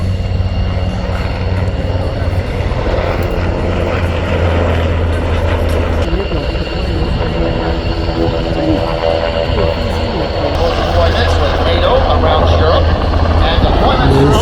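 A Cyclone multipurpose helicopter flies at an air show in British Columbia, giving a loud, sustained engine and rotor drone with steady tonal hums. Voices talk over it.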